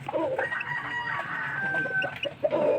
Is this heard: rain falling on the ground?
no